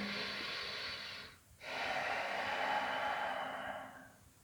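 Breaths drawn while holding a yoga plank in a morning stretch class: a long exhale, a short pause, then another long, steady breath, close and soft, with no voices over it.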